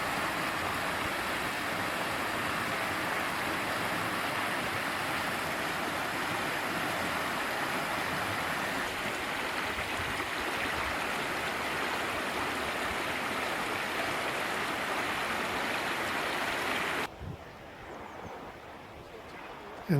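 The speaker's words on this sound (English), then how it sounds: "A spring, a brook at the Blair Atoll" A spring-fed brook flows at Blair Atholl Castle, a steady broadband rush of running water heard close and loud for most of the stretch before cutting to quieter ambience near the end.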